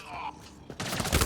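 Gunfire in the sci-fi shooter Mass Effect Andromeda: after a quiet beat, a quick loud volley of shots bursts out and builds at the end.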